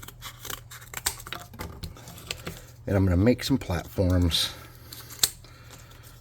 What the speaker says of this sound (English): I'm going to get some cardboard and some scissors